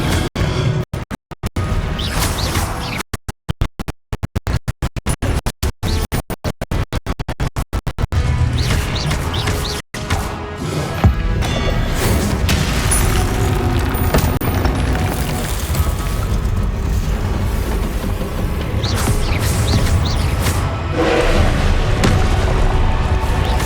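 Confringo fire-spell blasts in Hogwarts Legacy, repeated booming explosions with scraping and crashing impacts, choppy and stuttering early, then dense and continuous combat noise.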